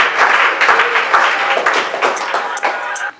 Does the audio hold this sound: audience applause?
yes